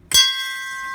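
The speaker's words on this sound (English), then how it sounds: "you have your Coast Guard bell" A Coast Guard bell aboard a Triton sailboat is struck once, giving a sharp clang that rings on with a sustained, clear metallic tone, close and loud.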